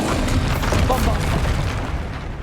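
A Bombarda blast spell in Hogwarts Legacy on PS5 gives a loud, dense boom with crackling debris that rumbles for about two seconds before fading, while a voice is heard alongside.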